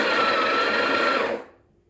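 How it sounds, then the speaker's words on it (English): A Breville Barista Pro BES878 coffee grinder spins with a steady, loud whirring grind for over a second, then winds down and cuts off, leaving near silence. "you want to only change your grind size with the grinder spinning."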